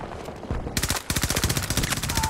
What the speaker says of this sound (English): Except I have an SMG, which actually is not well suited for murder hole.